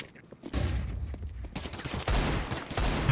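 M4 rifle fire in CS2 rattles out as dense, rapid bursts, loud and close, running almost without pause.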